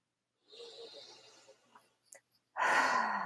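Slow, audible breath in and out through the nose and mouth, soft and close in a quiet room, followed after a short pause by a louder, breathy exhale.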